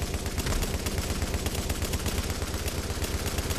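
Sustained light machine gun fire in The Division's Dark Zone, a long unbroken burst of rapid, evenly spaced loud shots pounding at a steady rate.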